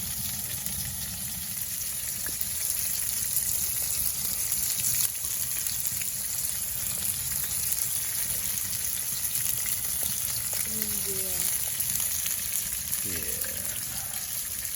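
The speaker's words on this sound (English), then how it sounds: "And I'm cooking some burgers." Burger patties fry steadily in a pan inside a hot tent, a constant close hiss and sizzle that fills the space with no pauses.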